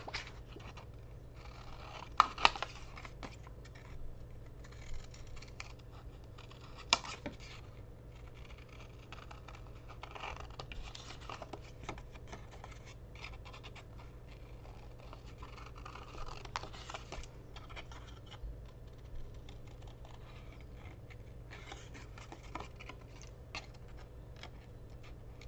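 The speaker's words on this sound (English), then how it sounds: "I'm going to cut them out now." Scissors cutting out reusable cotton rounds, soft intermittent snips and fabric scratches close by, with a few sharper clicks early on, quiet throughout.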